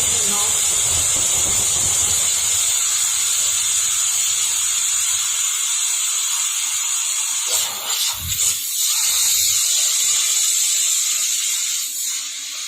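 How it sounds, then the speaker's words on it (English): A pressure cooker vents steam in a loud, continuous hiss that runs steadily for the whole stretch, with only brief dips, close to the listener. "cooker is you can release the pressure immediately after 3 whistles. But be careful, there will be hot air escaping"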